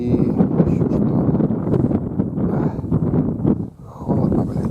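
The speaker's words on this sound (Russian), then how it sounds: "Вот это ветер сегодня. Ветер северный, холодный." Strong, cold north wind gusts and buffets the microphone in loud roaring bursts, briefly easing near the end before blowing hard again.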